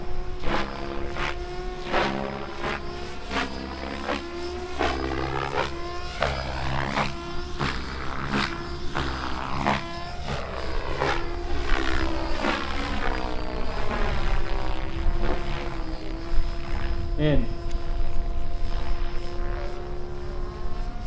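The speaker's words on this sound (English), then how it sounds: "the Logo 700. First manual, Wheel of Fortune." A Logo 700 RC helicopter flies a manual 3D maneuver at an international 3D flying competition, its rotor whine loud and continuous with rising and falling pitch sweeps as it flips, plus rhythmic blade chopping throughout.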